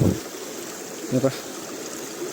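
Water runs out of a flooded rice paddy during heavy monsoon rain, a steady broad rushing wash close by with a couple of brief splashy gurgles midway and a thump at the start.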